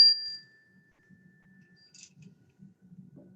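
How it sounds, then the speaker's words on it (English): A single bell struck once to open a children's service, a bright ringing tone sustained and fading over a few seconds, followed by faint murmuring voices in a quiet room. "We're going to start with our bell."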